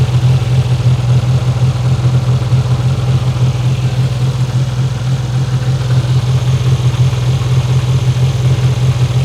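A Geo Tracker engine idles with the alternator belt removed, a loud, close, steady low rumble with an even pulsing beat that does not change over the whole stretch.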